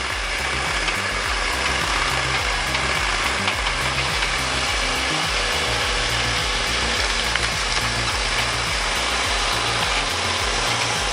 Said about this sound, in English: I need the address of where I can buy this chainsaw